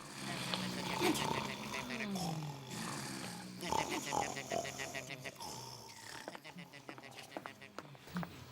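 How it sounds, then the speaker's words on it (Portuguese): A cartoon snorer drags out slow rumbling breaths in a steady rhythm over playful background music, with wheezy whistling exhales mixed in. "Quem está roncando?"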